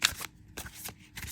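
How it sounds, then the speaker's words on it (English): A tarot card deck is shuffled in three quick riffling bursts, crisp and close, with brief pauses between each flurry of flicking cards. "It shuffles beautifully."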